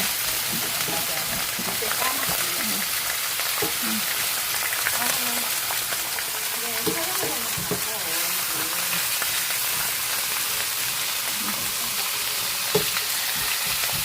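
Grilled eel sizzles and fries in a pan with a steady, dense crackling hiss heard close, while a voice talks faintly in the background.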